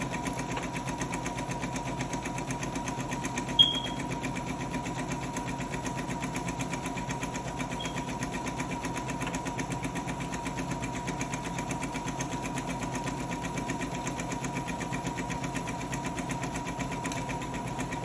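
Home sewing machine stitching steadily around the edge of a fabric bonnet, a continuous even hum with a fast mechanical rhythm, close and moderate in level, running alone without pause.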